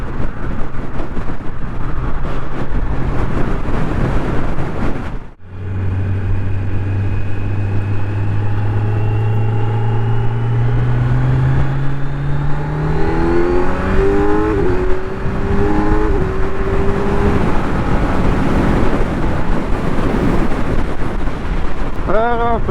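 A 2025 Kawasaki Z900 SE being run in on the road: after a gear change the engine climbs through a series of rising revs, one pull after another, loud and close, with steady wind roar and a voice talking over it.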